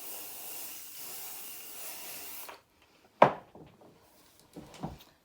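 A steady hairspray hiss runs for a couple of seconds and then stops, followed by a few brief rustles and taps nearby.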